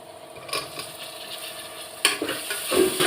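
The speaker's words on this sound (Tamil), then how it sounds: "எண்ணெயிலே நல்லா வதங்கணும்." Tomatoes sauté in hot oil with ginger and garlic in a pan, a soft, close sizzle broken by a few stirring scrapes of a spoon, fairly quiet, with no voices.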